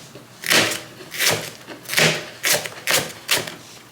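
A knife chops a green pepper into chunks on a cutting board, giving about seven firm, evenly spaced thuds close up. No one speaks.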